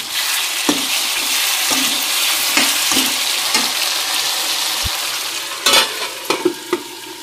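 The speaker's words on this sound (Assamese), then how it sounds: "এনেকৈ ঘনাই ঘনাই লৰাই লৰাই ভাজি থাকিম" Local chicken being stirred and fried in a pan makes a loud, constant close sizzle, with spatula scrapes and knocks against the pan coming at irregular intervals and a quick flurry near the end; nobody speaks.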